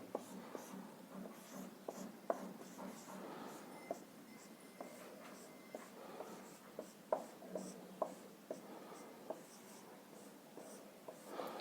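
Writing a word by hand with a pen, a soft continuous scratching and rubbing broken by small taps as strokes begin and end, close and quiet throughout.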